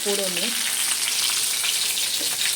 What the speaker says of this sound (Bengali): আমি কড়াইতে শুকনো লঙ্কা কাঁচা লঙ্কা দিয়ে দিয়েছি